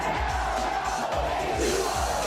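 Crowd in a bar cheering and whooping, a loud burst of many overlapping shouts and yells filling the room.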